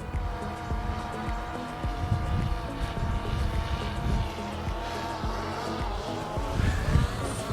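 Small consumer drone returning to its launch point and coming in to land outdoors, a close, steady buzzing propeller whine with a shifting pitch and occasional gusty thumps, no voices.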